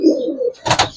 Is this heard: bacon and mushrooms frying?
no